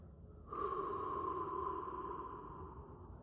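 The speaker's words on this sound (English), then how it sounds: "Inhale in and exhale it out" A deep breath drawn in audibly through the nose during guided meditation, starting abruptly after a near-silent half second and then trailing slowly away, close and fairly soft with no speech.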